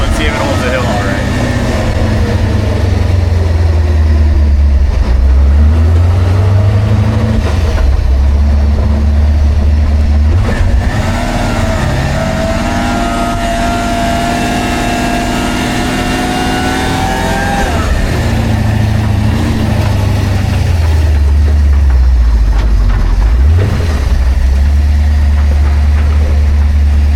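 A lifted truck with a swapped-in vacuum brake booster labors up a hill, its engine droning loud and close with repeated rises and dips in revs, and a voice occasionally audible under the noise.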